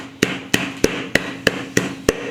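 Seven steady, evenly spaced pounding thuds of a pestle crushing chili and garlic in a mortar for Thai papaya salad, close and fairly loud with no talking.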